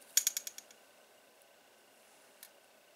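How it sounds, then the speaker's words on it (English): A necklace hanging on a camera stand catches and rattles: a quick run of about five small metallic clicks that fade out, then a single faint click after a pause. "I have a necklace on my my camera stand, so I'm getting caught on it. That's the noise."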